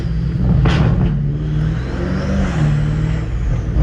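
Catless BMW M5 Competition exhaust revving in a parking lot, a deep booming rumble with a sharp crackling blip early on, then a sustained low roar, close and loud with no talk.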